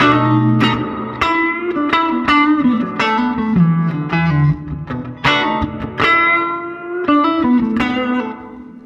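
Electric guitar played through a Fender tube amp with reverb feeding into tremolo, bright plucked chords and single notes ringing out with a wash of reverb tails, loud and close, no talking.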